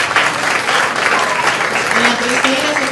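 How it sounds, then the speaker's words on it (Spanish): An audience at a talk by Dr. Mu-Kien Adriana Sang breaks into loud, dense applause up close, with voices audible beneath the clapping. "Un aplauso más fuerte."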